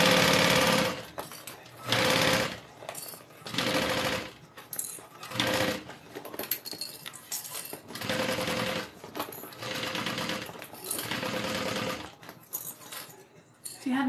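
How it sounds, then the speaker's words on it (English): A sewing machine sews a fabric bag together in short, uneven bursts of fast stitching with brief stops, accompanied by light rattles and handling noises. "Now I'm going to go ahead and sew this together"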